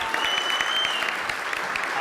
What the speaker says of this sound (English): Does the clapping count in the time?